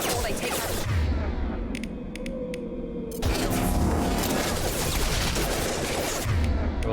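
Sustained rapid gunfire and bursts of automatic weapons in the video game Mass Effect 2, loud and continuous with sharp individual shots and a heavier boom, a faint voice briefly underneath.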